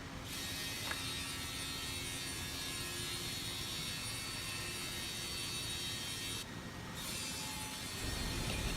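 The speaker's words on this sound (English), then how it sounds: "we will use this CNC machine to cut in the four edges of MGO board" Continuous grinding hum of a CNC machine cutting the edges of MgO boards in an automated production line, loud and steady with constant mechanical whine, a brief dip near the end, and no talking.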